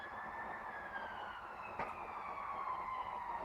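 An ambulance siren sweeps past at a steady, moderately loud level, its wailing tone drifting downward in pitch as it goes by, with no talking over it.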